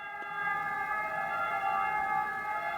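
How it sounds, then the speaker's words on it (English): A siren sound effect in an audiobook: a steady layered electronic tone holding several even pitches, droning continuously at moderate volume with no speech over it. "Sirens."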